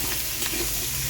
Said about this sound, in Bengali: দিয়ে আবার একটু ভালো করে ভেজে নেব আদা রসুনগুলো।